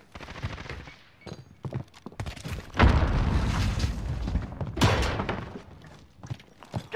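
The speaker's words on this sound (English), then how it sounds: "Enemy sentry gun active." An enemy sentry gun fires in a first-person shooter, delivering loud rattling bursts and heavy booming impacts that swell and fade over several seconds amid game action.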